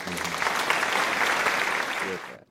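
A crowd claps loudly and steadily in a continuous wash that lasts a couple of seconds and then cuts off abruptly, with faint voices mixed in near the end.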